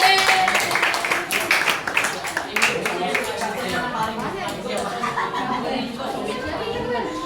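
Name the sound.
applause for classmates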